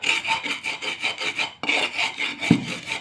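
Dried red chilies and other ingredients ground by hand on a traditional grinding stone for a spicy dried fish mash, heard up close as steady, rhythmic back-and-forth scraping strokes with no talking.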